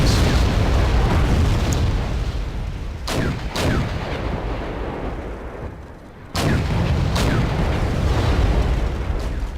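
Tank cannon fire and explosions from a T-62 versus Abrams battle in the Wargame European Escalation video game: a dense, constant battle rumble broken by a few sharp, loud cannon blasts.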